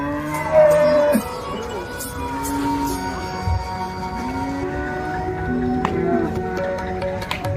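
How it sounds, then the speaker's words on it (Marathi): Cattle at a Loni livestock market with Jersey and HF cows for sale, lowing and mooing faintly amid busy market background noise, with a short louder burst near the start. "सर्वसामान्य शेतकऱ्यासाठी पण आहे ही गाय बघा."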